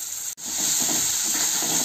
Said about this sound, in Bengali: মশলাটাকে ভালো করে কষে নেব।